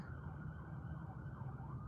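An ambulance siren wails steadily as it passes in the morning, its rising and falling tone fairly faint and distant over low traffic rumble.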